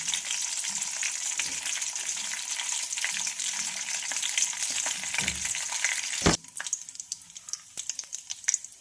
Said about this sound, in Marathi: पॅनमध्ये मी परत 2 चमचे तेल घातलेलं आहे आणि यामध्ये आपल्याला जिरं, मोहरी आणि कढीपत्ता घालायचा आहे आणि छान तो फ्राय झाल्यानंतर